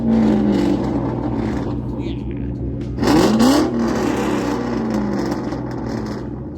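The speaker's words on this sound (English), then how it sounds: "That's a really good sounding car." A Ford Mustang with an aftermarket exhaust revs once at a crowded car meet, a sharp rising burst over a continuous background engine drone and crowd murmur.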